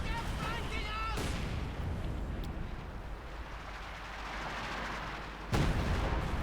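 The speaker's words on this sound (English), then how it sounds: "Got another artillery barrage going in there." Artillery barrage in the strategy game Company of Heroes 2: a sustained rumbling roar of shelling with sharp blasts bursting out near the start and again toward the end.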